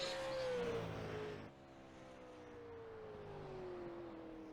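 A stock race car circles the track, its engine tone held high up close, then dropping and fading into a steadier, more distant drone as it pulls away, with no talk.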